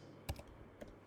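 A couple of soft, faint keystrokes on a computer keyboard while dates are entered into an Excel spreadsheet, brief and quiet against a low background hiss.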